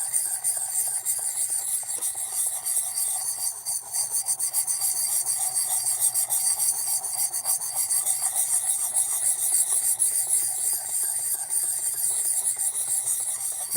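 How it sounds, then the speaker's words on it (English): An electric knife sharpener grinds a knife blade, giving a steady, continuous high-pitched rasping hiss at close range with slight rhythmic variation as the blade is drawn through. "you guys will get to hear the wonders of the electric sharpener"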